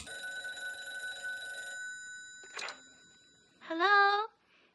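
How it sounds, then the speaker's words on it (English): A telephone bell rings with a steady electronic trill for nearly two seconds, then a brief rustle and a short rising warbling tone follow, all fairly close with no one speaking. "Phone effect."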